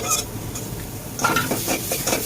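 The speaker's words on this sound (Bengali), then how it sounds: "একটু ভেজে নেবো রসুন আর পেঁয়াজের সাথে" Dried fish frying in a pan with garlic and onion, with a steady sizzle and scraping stir strokes that grow busier partway through, close and fairly loud, no talking.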